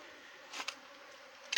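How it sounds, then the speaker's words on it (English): Honey bees buzz faintly around hives in a Caribbean bee yard on Trinidad, a soft steady drone with a couple of brief louder passes close by. "The bees are behaving a little hot today."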